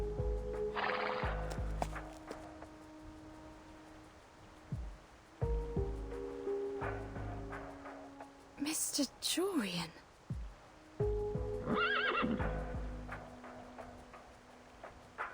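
Horses in the video game Reverse: 1999 give a few neighs and whinnies amid clip-clopping hooves, with tonal game music underneath and a voice speaking briefly.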